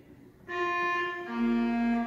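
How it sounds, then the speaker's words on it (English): A short line on a pipe organ's crumhorn reed stop, one of four reeds on the instrument, playing a fugue voice from Bach's BWV 867: two buzzy, nasal held notes, clear and close, without any speech. "Remember our crumb horn? One of four reeds on our organ."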